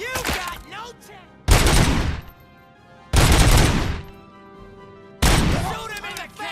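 Gunfire in the RoboCop: Rogue City video game comes as three loud, separate bursts of rapid shots, with quieter stretches between them where voices can be heard.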